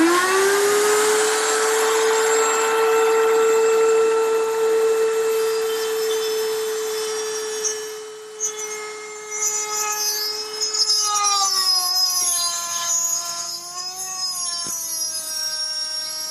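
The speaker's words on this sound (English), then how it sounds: "trying to make a deep plunge cut in one shot is hard on the router and on the bit." A router fitted with a small bit makes a deep plunge cut into wood in one pass. Its loud, steady high whine runs alone, then dips and wavers in pitch as the bit bites and loads up.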